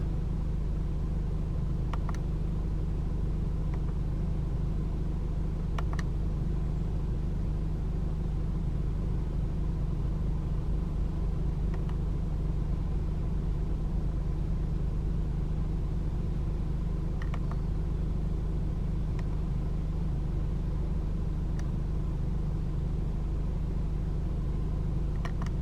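2018 Mercedes-Benz E220d AMG Line diesel engine idling, a steady low rumble with faint periodic clicks, continuous and unchanging throughout.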